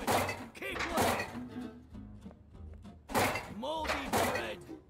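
A homeless character in Bum Simulator digging through and kicking trash, with dull thunks and clattering knocks in two bursts, separated by a quieter stretch of scattered bumps.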